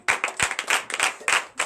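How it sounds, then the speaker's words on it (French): A congregation claps in acclamation during a night deliverance and prophecy service in a church, uneven bursts of hand claps in quick, loud rhythmic clusters. "Donnez l'acclamation."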